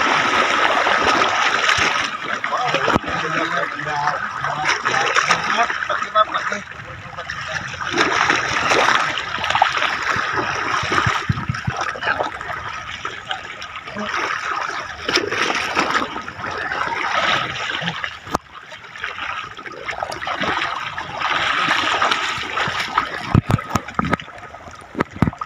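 Water sloshes and splashes continuously around people wading knee-deep at sea while fishing with a net, a busy close-up wash with irregular surges and no talk.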